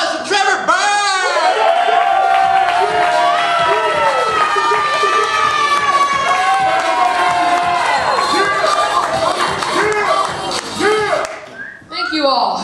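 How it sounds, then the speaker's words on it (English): A theater comedy show audience bursts into loud cheering and whoops for a young comedian, with shouting and clapping sustained for several seconds before fading out, a voice speaking briefly at the end. "So please, let's give a huge round of applause to Trevor Burke."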